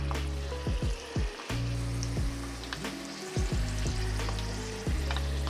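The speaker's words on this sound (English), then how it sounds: "Carefully lay in the shrimp and fry for about 2 to 3 minutes." Panko-breaded shrimp frying in hot oil for Japanese-style ebi fry, a steady close sizzle and crackle with a few utensil clicks and stirring knocks scattered over about five seconds, no voices.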